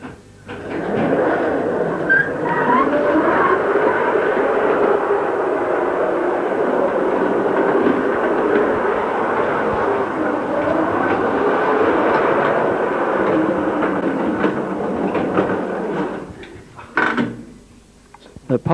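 A 1:16 scale model Sydney tram runs along its track with a steady whirring rumble and light clicking, then stops near the end with a few clunks.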